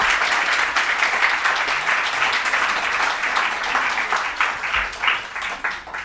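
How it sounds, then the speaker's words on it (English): An evening lecture audience claps for a guest, a full round of dense applause that holds steady and then tapers into scattered, individual claps near the end. "Please give her another round of applause."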